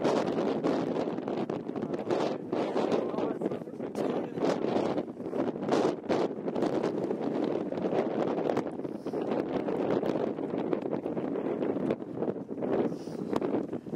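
Strong wind blows across a mountain hiking trail on the Appalachian Trail near Overmountain Shelter in March, a steady loud buffeting roar against the microphone for the whole stretch with no talking.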